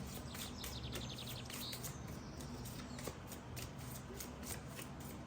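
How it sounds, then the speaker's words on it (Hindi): Tarot cards shuffled and a single card drawn from the deck, a steady soft papery riffle and rustle with light flicking clicks, close and continuous throughout. "let's take the last card from this deck"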